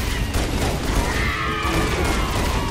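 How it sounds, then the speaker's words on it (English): Continuous gunfire in a hallway in the game Halo, a dense, unbroken wash of shots and mechanical clatter, loud and steady throughout with no pauses. "I'm just shooting in this hallway."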